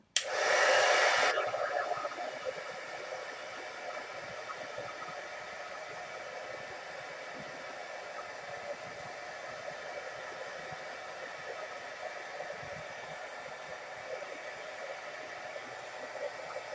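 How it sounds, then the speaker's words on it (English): Heat gun switched on and left running, a loud initial rush that settles into a steady, even whooshing blower hiss that continues without a break. "Turning it on, just warning, heat gun."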